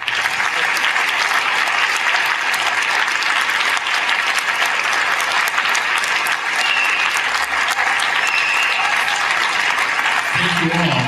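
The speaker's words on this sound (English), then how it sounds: "ask all of our S50, S100, and our newly formalized S200 donors to stand for a round of applause." Sustained, loud applause from a gala audience at a scholarship foundation dinner, as standing donors are honored; dense clapping fills the whole stretch at a steady level.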